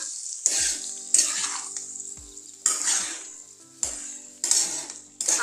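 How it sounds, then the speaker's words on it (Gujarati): An eggplant and potato curry with spices is stirred in a pan, giving sharp bursts of scraping and sizzle every second or so that each fade between strokes. It sounds close and loud, with no voices. "તો આપણે એકવાર શાકને બરોબર ફેરવી લેશું અને બધો મસાલો આપણો મિક્સ કરી લેશું."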